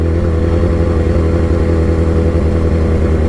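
A BMW S1000RR sport bike with a very loud exhaust roars steadily and close by while ridden off-road, its engine note a continuous, gruff mid-pitched drone with slight revving fluctuations throughout.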